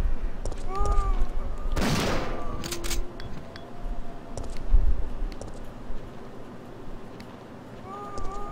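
A single loud shotgun blast in Resident Evil 3: Nemesis, with a burst of noise around the midpoint, set against background game sounds and chatter.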